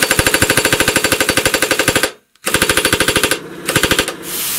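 A power tool salvaged from scrap metal hammers when run in reverse, a loud, rapid, even pulse that cuts off briefly before starting again and stuttering on.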